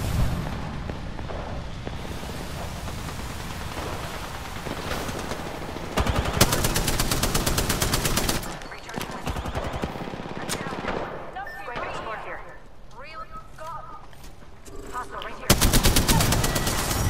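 Apex Legends battle with rapid gunfire and loud bursts of shooting near the player, one stretch quieter and more distant, set against constant game ambience and music.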